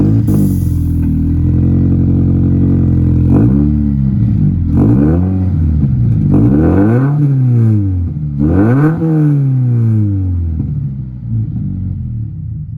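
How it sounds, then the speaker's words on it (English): Subaru-style exhaust rumble on a warm start at room temperature, a loud, close, deep burbling idle punctuated by several sharp throttle revs that climb and fall back, no talking. "That was a Subaru Rumble, guys"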